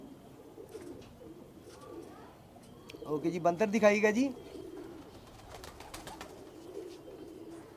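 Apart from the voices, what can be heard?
pigeons cooing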